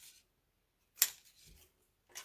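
Scissors snip little stems off a paper taco made of scrapbook paper, one sharp close cut followed by faint rustling of paper and another soft snip at the end.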